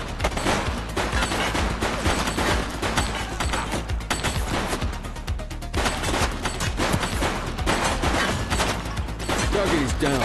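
Dense, loud gunfire in The Precinct, a police video game, with rapid overlapping shots and bursts in a continuous barrage throughout, carrying heavy low-end booms.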